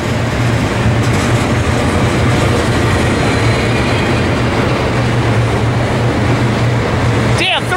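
A freight train rumbles past on the tracks at Cajon Pass, a loud, continuous rolling roar with steady low engine hum and wheel noise, ending in a brief sharp clatter.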